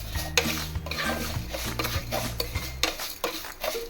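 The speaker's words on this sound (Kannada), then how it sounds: "ದ್ರಾಕ್ಷಿ, ಗೋಡಂಬಿ, ಶಾವಿಗೆ ಎಲ್ಲ ಚೆನ್ನಾಗಿ ಫ್ರೈ ಆಗಬೇಕು ತುಪ್ಪದಲ್ಲಿ." Raisins, cashews and vermicelli fry in ghee for mung dal payasam, with a utensil scraping and stirring in the pan in irregular, moderately quiet strokes over a low hum.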